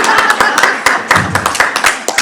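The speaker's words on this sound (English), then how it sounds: "That deserves another applause." Audience applause at a regional council roundtable on bringing back main streets, a close, loud burst of individual sharp claps from a modest crowd, uneven and scattered rather than a dense roar, continuing steadily.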